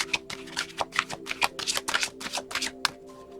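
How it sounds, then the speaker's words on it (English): Cards are riffled and shuffled in quick, soft flutters, a rapid series of papery snaps at close range with no talking. "So when I was shuffling"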